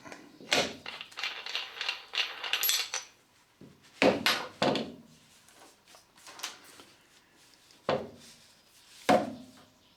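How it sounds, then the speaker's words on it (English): Flange nut being unscrewed from an angle grinder fitted with a dust shroud: a run of close, sharp metallic clicks and clinks, then a few separate louder knocks and taps with quiet gaps between them, no talk. "I'm just going to remove the flange nut"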